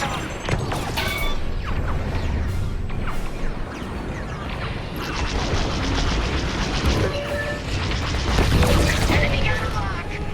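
Explosive booms and crashing blasts from a Star Wars: Squadrons space dogfight, dense and loud throughout with heavier bursts near the middle and end, under a steady layer of game voices.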